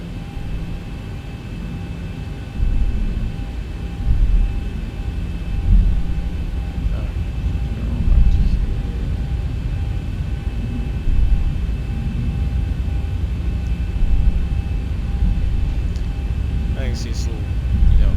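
A Boeing 737-800 taxis in the X-Plane 11 flight simulator, giving a steady low engine rumble with a faint constant whine that swells gently a few times over eighteen seconds.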